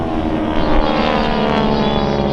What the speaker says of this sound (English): Now let's watch as these 2 airplanes go into their next maneuver, with Chris in the lead